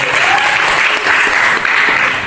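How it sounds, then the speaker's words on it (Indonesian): Applause from a crowd at a community political gathering, steady and loud, continuous clapping throughout without a break. "Tepuk tangan untuk kita semuanya."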